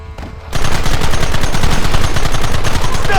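Sustained heavy gunfire erupts in a Red Dead Redemption fort battle, a dense rapid rattle of rifles and machine guns starting abruptly after a brief quiet moment and continuing loud and unbroken.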